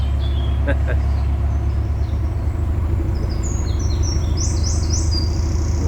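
Several birds chirp and trill in high bursts over a steady low rumble of passing traffic beside the Shropshire Union Canal, with a faint voice early on.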